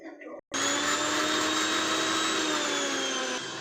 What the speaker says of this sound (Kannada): ಈಗ ನಾವು ರುಬ್ಕೋತಾ ಇದ್ದೀವಿ ಅದನ್ನು.